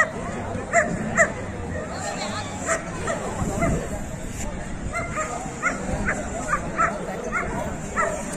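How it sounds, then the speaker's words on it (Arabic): Egyptian Armant shepherd dogs bark and yip repeatedly at a dog show, a busy mix of overlapping barks with some whimpering, over crowd noise. "يا جماعه كلاب"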